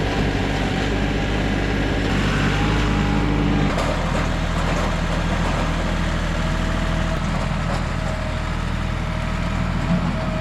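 A tractor engine runs steadily at idle on a farm while soil is scooped for an in-ground garden, a loud continuous low rumble with a slight shift in pitch partway through.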